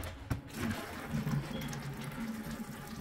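Water draining from the drain of a ceiling cassette air conditioning unit, a continuous splashing, trickling flow with a brief knock near the start, close and steady without talk.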